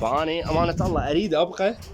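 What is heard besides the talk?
No distinct noise like a dog, phone or traffic.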